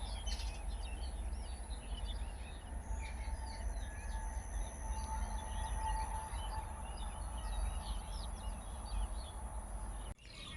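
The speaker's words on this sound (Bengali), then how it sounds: "মেল ট্রেন যাচ্ছে, দুদিকে ধান জমির মাঝখান দিয়ে রেল লাইন।" A mail train runs along a rail line between paddy fields near a village, giving a steady, moderately distant rumble for the whole stretch while birds chirp faintly over it.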